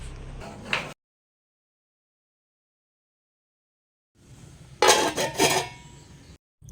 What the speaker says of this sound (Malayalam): മീൻ വറുക്കാൻ വേണ്ടിയിട്ടുള്ള ഇഞ്ചി വെളുത്തുള്ളിയാണ് കേട്ടോ അത് ഞാൻ നന്നായിട്ട് ചതച്ചെടുക്കുവാണ്